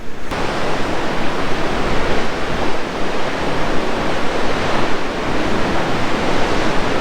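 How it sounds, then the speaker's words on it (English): Continuous roar of Pacific ocean surf breaking along a rocky Northern California coast near redwoods, broad and steady with gentle swells in loudness, no voices. "Just look at all the waves coming."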